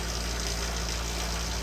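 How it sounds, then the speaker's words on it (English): Large exhaust fan in a workshop running steadily, a constant broadband whoosh with a low hum underneath, no changes or voices over its length. "You can hear my fan behind me."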